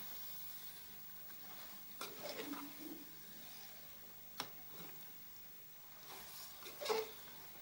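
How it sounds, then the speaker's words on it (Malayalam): Chicken biryani masala being stirred in a pot, quiet scraping and sizzling with a few sharper stirs and knocks against the pot, fairly faint and close, no talk. "എല്ലാ മസാലയും ചിക്കൻ്റെ എല്ലാ ഭാഗത്തേക്കും ആവുന്ന വരെ നമ്മൾ നന്നായിട്ട് ഇളക്കി കൊടുക്കണം"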